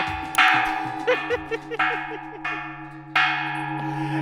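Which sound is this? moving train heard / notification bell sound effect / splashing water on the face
notification bell sound effect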